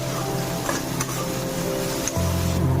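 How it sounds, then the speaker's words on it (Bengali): Spice masala for chicken kosha being stirred and fried in a pan over a low to medium flame, giving a steady close sizzle with soft scraping strokes and a low hum underneath. "লো টু মিডিয়াম ফ্লেমে মশলাটাকে ভালো করে কষতে হবে"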